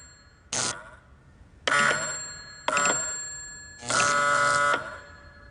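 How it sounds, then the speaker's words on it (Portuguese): An electric bell on a wireless receiver, triggered remotely by a button, rings in four separate bursts. Each is a loud metallic clatter lasting under a second, and the last is longer and sustained. "se eu aperto o botão deste lado, ele dispara a campainha no receptor"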